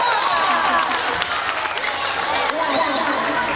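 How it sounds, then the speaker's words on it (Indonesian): A school audience at a Catholic senior and junior high school in Makale, Toraja, claps and cheers to welcome a singer, a steady dense wash of applause with crowd noise and some voices mixed in. "Kita beri tepuk tangan."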